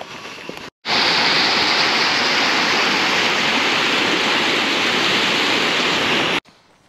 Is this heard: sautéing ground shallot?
no